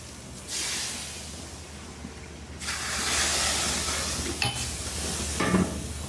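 Deghi chili powder sizzles in hot oil for a Sindhi kadhi, a steady hiss that swells louder midway, with scraping stir strokes and a faint clink near the end.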